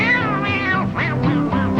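A voice imitates a cat's meow in a few drawn-out, wavering cries, close and fairly loud, with no other sounds.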